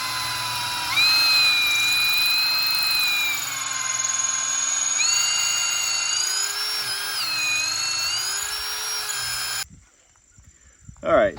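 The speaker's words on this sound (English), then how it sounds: "we got the hole drilled here" A power drill bores a hole for a gate hinge pin while a driveway gate is hung on a three-board farm fence, a steady high whine running about nine seconds with pitch shifts under speech before cutting off abruptly.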